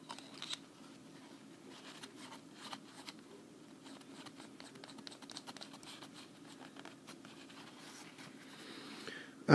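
A Delta Dolcevita Slim fountain pen with silver trim and a freshly adjusted, wet-writing nib moves across paper, making faint, close, steady scratching strokes with small taps, and no one speaks.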